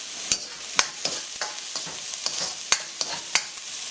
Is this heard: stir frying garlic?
yes